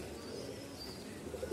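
A pigeon perched at a loft coos softly nearby. It is a faint, low murmur over quiet outdoor background noise.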